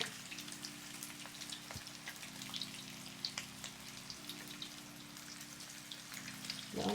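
Chicken taquitos fry in hot grease with a steady, quiet sizzle and scattered soft pops and crackles throughout. A low droning hum sits underneath. No talk.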